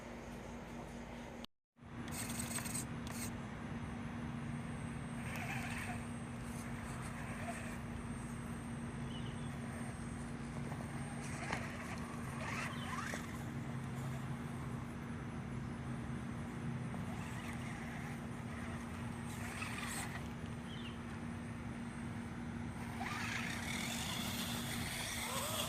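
An Axial SCX10 II RC crawler with a brushless motor drives, giving a steady electric motor whine and drivetrain hum that rises and falls slightly, close and continuous, with a brief cut near the start.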